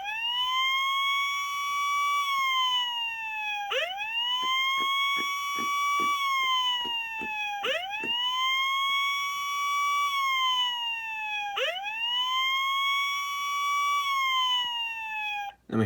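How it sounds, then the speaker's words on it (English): A toy fire truck's electronic siren, from a 2005 Hess emergency truck, wails in repeating rising-and-falling cycles, four sweeps in a row with a clicking pulse between, loud and steady with no voices. "The first one produces like a fire truck sound that we're all familiar with."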